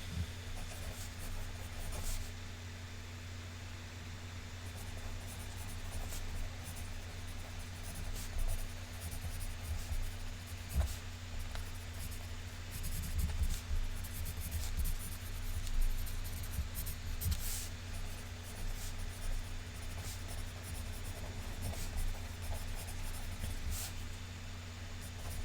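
A pen scratches steadily across paper in continuous, close, quiet strokes that last the whole stretch, with no voices.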